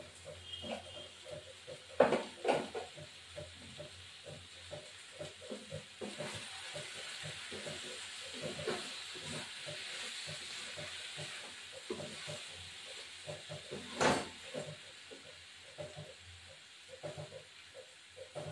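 Ghee sizzles quietly in a pan with cabbage being cooked, giving a steady soft hiss broken by small crackles and pops throughout.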